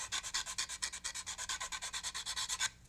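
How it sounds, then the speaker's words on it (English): A model car door cutout has its edges sanded by hand: quick, evenly spaced rasping strokes, about eight per second, close and soft, running steadily and then stopping abruptly. "just a little sanding to clean up the edges"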